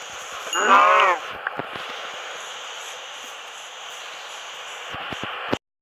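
A single bleating sheep call in a video game near the start over a steady hiss of static, followed by faint clicks and quiet background noise.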